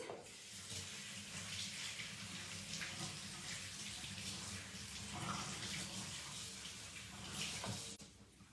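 A kitchen tap runs as the ends of vegetables are rinsed while cooking a pinto bean chili. The water flows steadily and softly, with a faint splash as it hits the vegetables, and then stops abruptly near the end.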